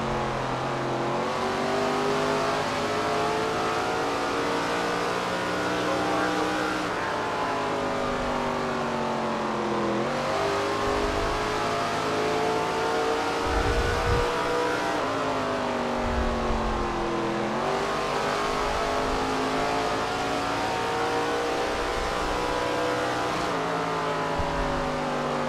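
Race car engines roar continuously in the SRX racing video game at Walnut Creek, with the pitch rising and falling through each gear shift and corner as the cars lap the track, loud and without talk.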